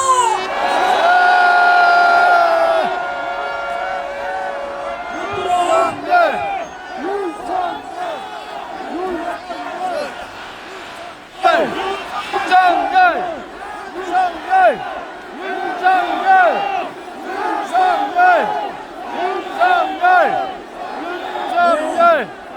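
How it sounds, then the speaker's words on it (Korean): A rally crowd of supporters of President Yoon Suk-yeol cheers and shouts in loud repeated bursts, voices rising in rhythmic chants and whoops with brief lulls between surges. "윤석열 대통령을 환호하는 이 목소리가 하늘에 닿을 것이고"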